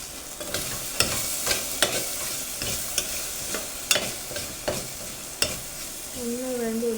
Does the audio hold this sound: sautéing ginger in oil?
yes